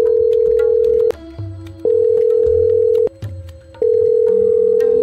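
A telephone rings in long, loud, steady tones separated by short gaps, repeating three times with nothing else heard.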